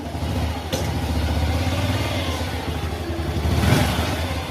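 A Honda Revo Absolute motorcycle with a faulty, unstable idle revs up, its mid-pitched engine droning steadily close by, then swelling briefly louder near the end.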